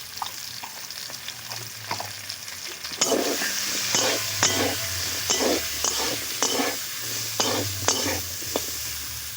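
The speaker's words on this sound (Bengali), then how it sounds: "ভালো করে চাপা দিয়ে ভেজে নেব।" Potatoes fry in a pan with salt and turmeric, sizzling steadily while a utensil stirs them in repeated scraping strokes; the frying grows louder partway through, with no talk over it.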